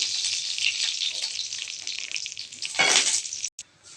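Tempering sizzles in hot oil for an onion chutney, a bright crackling hiss that holds steady for about three seconds, swells once near the end, then cuts off abruptly.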